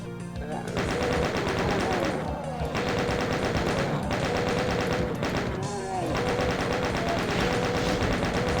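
Chaingunner gunfire in a Doom WAD level, Map01 Waste Abandonment, loud sustained rapid automatic bursts with brief gaps between volleys, dense and continuous throughout.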